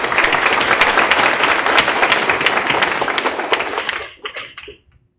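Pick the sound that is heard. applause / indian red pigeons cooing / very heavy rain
applause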